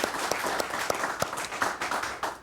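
Applause at a school board meeting for a Whetstone High School alum, a moderate, steady patter of many hands clapping throughout, with a few sharper individual claps standing out.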